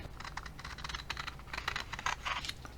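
Cardboard is cut for a 1957 GE pocket radio chassis in a quick, quiet run of short crisp snips and scratches.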